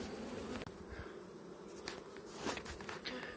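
Honey bees buzz inside an agitated hive, a faint, steady drone broken by a few soft knocks and clicks.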